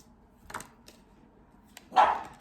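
A dog gives two sharp barks nearby, one short and then a louder one a moment later, with faint clicks in between.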